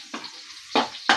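Garlic browning in a frying pan for a Filipino vegetable dish, heard as three short bursts of sizzling and stirring with quiet pauses between them, close and fairly loud.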